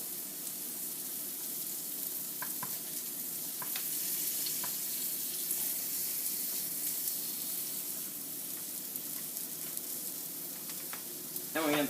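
Tuna panini sizzling in a frying pan, with a steady, low crackling fry and a few faint clinks and light scrapes throughout.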